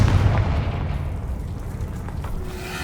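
A Confringo fire spell blast in the Hogwarts Legacy video game, a loud booming explosion that hits at once and then fades into a low rumbling tail.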